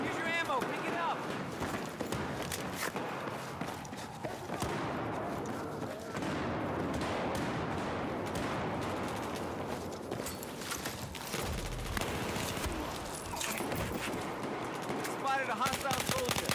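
Pistol shots ring out in a first-person shooter match on a lockers map, with fast repeated cracks over steady game noise, while in-game voice callouts talk throughout.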